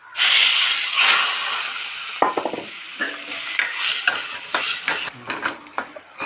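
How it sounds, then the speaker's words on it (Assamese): Bora rice frying in a little oil in a pan, with a bright sizzle and hiss broken by scraping clicks as it is stirred, close by and with no talking. "বৰা চাউলটো অকণমান তেল দি ভাজি ল'লে ইয়াৰ আঠাটো কমিব"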